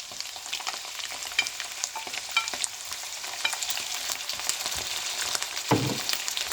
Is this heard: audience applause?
no